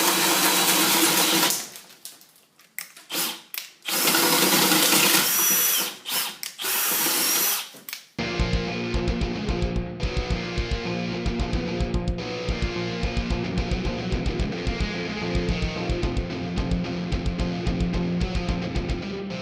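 A cordless drill boring through wood with a switchblade bit, loud whining bursts that start and stop in the first half, then a long steady grinding run with a rattling texture, close and without speech.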